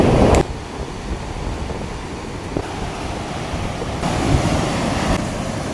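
Sea waves wash steadily at a beach below a coastal viewpoint. Broadband surf runs throughout, with wind buffeting the microphone, a sharp bump near the start and a louder swell toward the end, and no voices.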